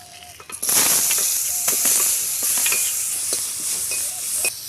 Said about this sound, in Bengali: এখন এই যে দুটো পেঁয়াজ কেটে রাখলাম পেঁয়াজটা দিয়ে দেবো